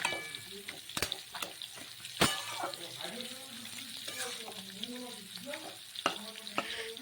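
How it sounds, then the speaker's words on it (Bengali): Spatula stirring spinach chorchori in a pan, scraping and clinking against the metal with a steady sizzle of frying underneath, close and continuous with irregular strokes. "খুন্তি দিয়ে একটু ঘেটে দেব"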